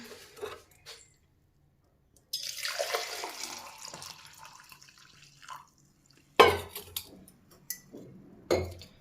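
Hot water splashes and pours steadily into a container for a few seconds, followed by a couple of sharp knocks and clatters nearby.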